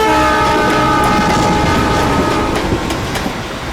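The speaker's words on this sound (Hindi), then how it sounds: "हम दिल्ली की ट्रेन में चढ़ गए" A passenger train runs loud and close, a rumbling roar of moving carriages with a sustained horn tone and faint rhythmic clatter throughout.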